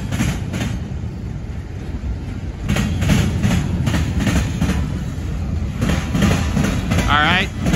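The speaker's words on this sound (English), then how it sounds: "More empty auto racks. They even sound empty when they hit the diamonds there" Empty auto rack freight cars roll over rail diamonds, producing a steady loud rumble with repeated clattering knocks as the wheels hit the crossing, while a voice talks over the passing train.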